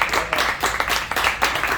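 Audience at a live magic show at a theatre claps for two volunteers coming up onstage, a steady, dense patter of many hands close by with no talk over it.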